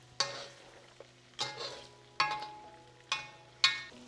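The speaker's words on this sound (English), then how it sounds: "So deglazing is the process whereby you're using a liquid to, I guess, take the browning off the edges of the pan" While a mutton curry cooks, a pan sizzles and a utensil scrapes its base in about five distinct strokes, each a sharp scrape that fades into a hiss. The sound is fairly close and quiet, with no talking.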